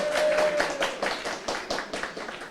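An audience at a Spanish-language book launch breaks into applause, a lively burst of many hands clapping nearby that gradually thins and fades over a couple of seconds.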